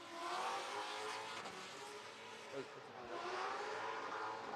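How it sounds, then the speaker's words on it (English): Coyote-powered BMW race car at a qualifying session, engine note rising and falling as it passes at a distance, faint under steady track ambience. "This is a Coyote-powered BMW."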